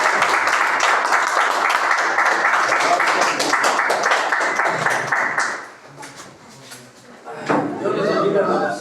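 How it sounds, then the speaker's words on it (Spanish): Church congregation clapping loudly in a fast, dense burst for about five seconds, then fading, with a voice speaking afterward and a brief further round of clapping near the end. "Dele palmas a Cristo."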